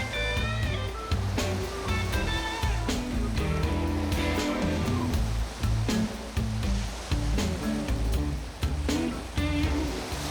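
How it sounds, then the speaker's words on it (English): Heavy Pacific surf crashing over rocks at Bondi, a dense continuous roar with repeated surges and bursts of spray, loud and close, no voices. "I have never ever seen such waves breaking over the rocks in my life"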